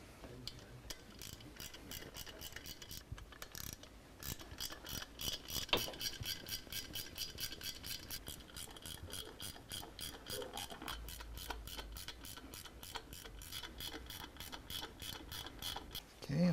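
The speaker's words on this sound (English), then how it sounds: "go ahead and go through the torque sequence" A torque wrench ratchets through the cover bolt sequence on a 2010 Harley-Davidson FLTRX, producing rapid, continuous close clicking in long runs with a few short breaks.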